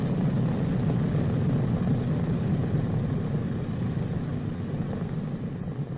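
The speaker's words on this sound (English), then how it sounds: "When the airplane reaches the runway, the engines must be checked." Engines of a Boeing B-29 Superfortress run steadily during the pre-takeoff engine check on the runway, a loud, continuous, unchanging drone with no voices.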